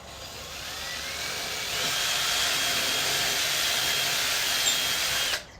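A power drill whines steadily as it bores into a wooden floating shelf, rising in pitch once it bites and then holding a loud, even drone before cutting off abruptly.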